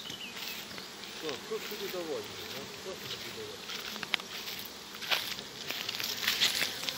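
Buckfast honeybee drones buzz steadily in the open air during a mating flight on an island in the Dnieper, with a continuous insect hum and brief louder passes. A person speaks briefly over it.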